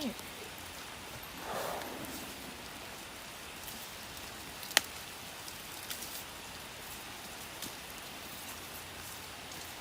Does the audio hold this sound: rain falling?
yes